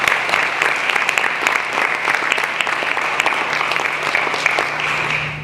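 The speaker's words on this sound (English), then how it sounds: "Let's give her a round of applause." An audience at an evening college celebration applauds steadily, a dense, even wash of many hands clapping at moderate distance with no voices over it.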